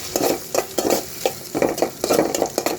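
Chili-garlic paste frying in hot oil for a vegetable and dried-fish dish, with a spoon stirring in a steady rhythm of scraping strokes over a continuous close sizzle.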